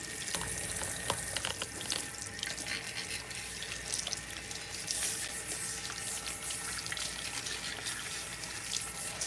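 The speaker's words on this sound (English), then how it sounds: "we're gonna go ahead and rinse out her relaxer." Running water from a salon sink tap splashes steadily as hair relaxer is rinsed out of a client's hair, a continuous close hiss with small drips and clatters and no talking.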